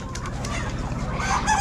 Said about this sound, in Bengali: ফার্মি মুরগির খামার আপনার এটা।